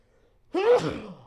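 A single short, breathy sneeze after near silence, fairly close and brief.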